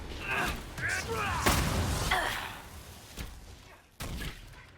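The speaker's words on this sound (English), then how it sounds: "Explosions everywhere." Explosions and thuds from combat in the video game Dragon Age Inquisition, several broadband bursts over a few seconds with someone talking over them.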